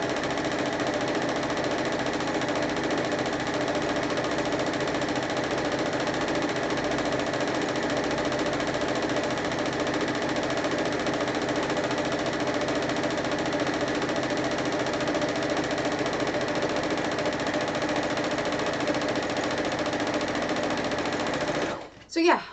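A sewing machine runs steadily for about twenty seconds, stitching fabric strips for a horror-themed quilt with a loud, continuous mechanical whir, then stops abruptly near the end.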